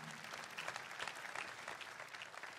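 Church congregation applauding for Jesus Christ at a Sunday testimony service, a steady, dense wash of clapping from many hands that holds evenly throughout, fairly distant, with no voices standing out.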